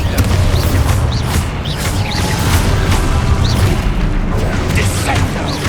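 Spell explosions and magical blasts from combat in the video game Hogwarts Legacy, loud booming bursts layered over a dense, continuous rumble of game effects for several seconds.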